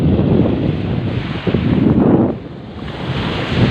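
Sea waves breaking at a beach in San Juan, Batangas, a loud rolling surf whose wash swells and ebbs, heavily buffeted by wind rumbling across the microphone.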